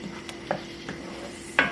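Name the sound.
stirring coconut chicken curry in a pan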